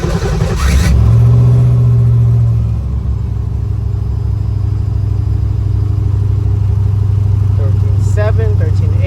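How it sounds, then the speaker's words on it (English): A Datsun 240Z engine cold-starts with a brief cranking burst, then settles into a steady, close, rumbling idle. A voice talks faintly over it near the end. "gonna give it a cold start for the first time and see what the battery voltage looks like"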